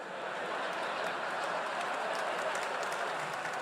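A stand-up comedy audience gives a steady, dense round of applause, a continuous even wash of clapping at moderate loudness with no speech.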